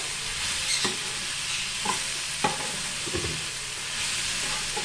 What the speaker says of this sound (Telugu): కొత్తిమీర కూడా దీంట్లో వేసేస్తున్నాను. వేసి ఒక్కసారి ఇట్లా కలిపేసి